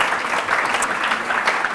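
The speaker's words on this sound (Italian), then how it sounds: "Meritano, devo dire, un applauso al grosso lavoro che hanno svolto." An audience at an evening talk on GMOs and organic food breaks into brisk, dense applause, a continuous close patter of many hands with no voices.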